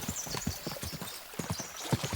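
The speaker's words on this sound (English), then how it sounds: "we'll give the horses a gallop again" Horses gallop in Kingdom Come: Deliverance II, their hooves making a rapid, rhythmic clip-clop that runs steadily at moderate distance and fairly low volume.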